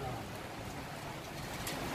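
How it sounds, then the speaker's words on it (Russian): Steady, dense patter of heavy rain in Cyprus, a continuous soft hiss with no break, fairly quiet and even throughout. "Да, начался ливень"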